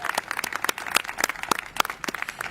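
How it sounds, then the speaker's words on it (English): Scattered hand clapping from an outdoor crowd at an Egyptian flag raising ceremony in Revere, a brief round of applause with irregular sharp claps, fairly close and steady for a couple of seconds. "So let's give you guys a round of applause."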